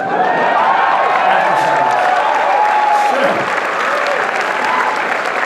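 A large crowd at a CPAC political speech breaks into loud, sustained applause and cheering that fills the whole stretch without a pause.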